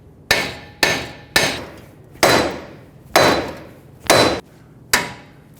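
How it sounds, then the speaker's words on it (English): A mallet strikes the steering knuckle of a 2003-2008 Honda Pilot to free the tie rod end, giving seven loud, close metallic blows at a steady pace with short ringing decays between them. "Using a mallet, hit around the outside of here to break the tie rod end free"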